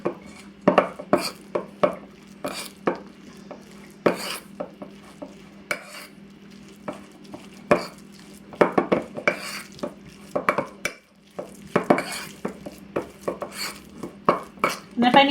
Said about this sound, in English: I'm just going to mix all this up.